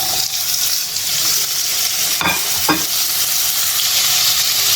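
Onions and tomatoes cook loudly in a pan for Filipino fish paksiw, a dense continuous sizzle broken by two quick stirring scrapes.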